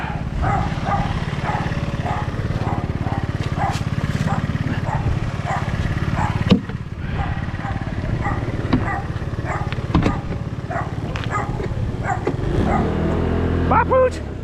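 A small Chihuahua barks in a steady run of sharp, regular yaps, loud and close, over a constant low rumble of engine or traffic noise.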